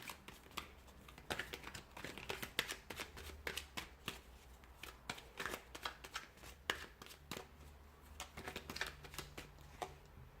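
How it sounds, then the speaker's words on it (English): Tarot cards are shuffled by hand in quick, irregular bursts of crisp riffling and flicking, close and fairly quiet, with short pauses between bursts. "we'll give the cards a shuffle"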